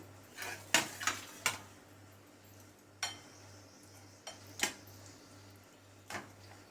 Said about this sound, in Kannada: ಈಗ ಇದನ್ನೆಲ್ಲ ಒಂದು ಬೌಲ್ಗೆ ಹಾಕೊಂಡ್ಬಿಡ್ತಾ ಇದ್ದೀನಿ.